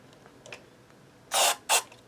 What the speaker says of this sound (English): give them a little hit of some of this cleaner